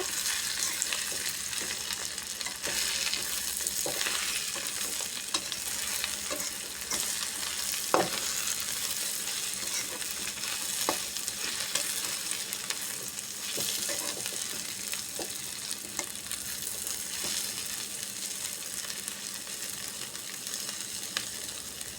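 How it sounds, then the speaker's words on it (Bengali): Jute leaves stir-fried in a pan with a constant close sizzle and occasional scraping taps from the stirring utensil, no voices. "এখন আমি নেড়ে চেড়ে সুন্দর করে মিশিয়ে দিব"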